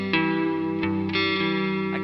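Electric guitar played through a NAM amp model on a Headrush Flex Prime, with sustained distorted chords ringing loud and close and a couple of fresh strums over a steady, continuous tone.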